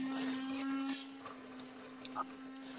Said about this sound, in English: Put the immersion blender in the sauce.